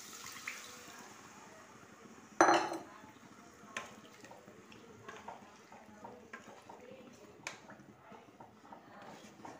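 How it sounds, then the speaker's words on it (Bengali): A little water poured into drying masala in a pan while making boneless chicken tikka masala: a splash and bubbling hiss, then scattered clinks of utensils against the cookware, close and moderately quiet, with no speech. "মশলাটা শুকিয়ে আসছে, এবার আমি একটুখানি জল ঢেলে দেবো।"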